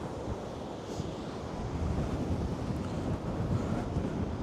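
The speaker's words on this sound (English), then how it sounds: "but now the waves are crashing in." High-tide waves crash and surge onto the shore during Storm Lilian, a continuous loud roar with heavy wind buffeting the microphone throughout.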